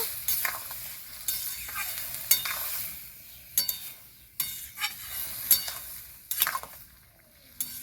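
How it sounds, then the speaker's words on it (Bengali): Boiled potatoes being stirred into a Bengali rohu-style fish curry (pona macher jhol) in a pan, with scraping spoon strokes in irregular bursts over a soft background sizzle, close and moderately loud. "সেদ্ধ করা আলু পিপে ঢেলে দেবো ভালো করে নেড়ে চেড়ে মিক্স করে নেবো"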